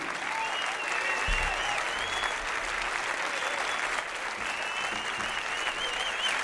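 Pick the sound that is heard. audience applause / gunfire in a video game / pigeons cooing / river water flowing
audience applause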